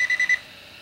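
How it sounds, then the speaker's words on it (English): Gold Digger land and sea metal detector pinpointer emits four quick, even electronic beeps at close range, clear and moderately loud, then falls silent. "As they come closer, the beeps and the sound gets louder."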